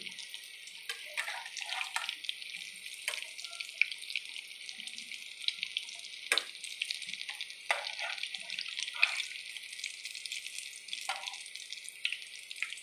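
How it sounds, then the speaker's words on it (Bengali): Whole dhoka lentil cakes frying in a pan make a soft, crackling sizzle with scattered pops and bubbling, fairly quiet and close, with no talking. "পুরো গোটা গোটাই ভাজা হচ্ছে"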